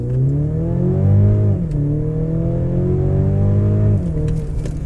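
A 2023 Mercedes-Benz GLC 300 AMG Line with a 258 PS engine pulls away from a standstill, its steady engine note climbing in pitch, easing at a gear change near the two-second mark and rising again, heard continuously from inside the cabin.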